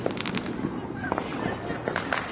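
Street fireworks go off during a Fourth of July celebration in Allentown, with scattered sharp pops and crackles over a dense, noisy background.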